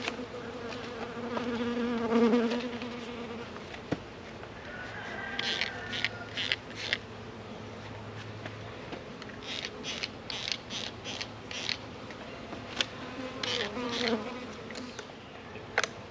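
Bees buzz steadily at close range while being installed from a package, a soft droning hum with faint clicks and rustles, fairly quiet throughout.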